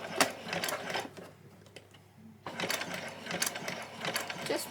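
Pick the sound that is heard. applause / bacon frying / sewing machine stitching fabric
sewing machine stitching fabric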